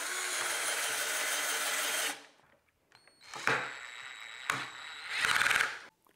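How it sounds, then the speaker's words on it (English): A power drill bores a hole straight through a scrap wooden board while a 2-meter Yagi antenna is being built, whining in one long steady run up close, then stopping and restarting in short bursts. "I kinda wanna just drill a hole straight through this board."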